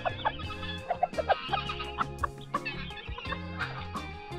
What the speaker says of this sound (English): A good rooster always shares his food.